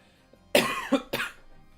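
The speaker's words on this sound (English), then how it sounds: "Now the coughing wants to come back." A streamer coughs in two or three harsh, close bursts over a couple of seconds, the second and third closely spaced, with a faint throat sound just before.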